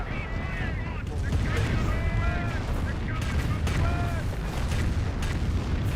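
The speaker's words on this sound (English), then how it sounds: "Calliope rocket barrage." Calliope rocket barrage in the Company of Heroes video game, a loud dense run of rocket launches and booming impacts mixed with rattling gunfire, steady throughout, with a commentator talking over it.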